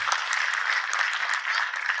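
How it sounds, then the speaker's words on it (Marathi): An audience at a Veer Savarkar centenary celebration claps for Deepak Kesarkar: dense, continuous applause from a large crowd, loud and even for the whole stretch. "एकदा जरा जोरदार टाळ्या दीपक केसरकर साहेबांसाठी."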